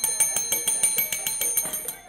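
A small bell rings rapidly and repeatedly, about a dozen bright metallic dings in an even fast rhythm, close and clear with no talking.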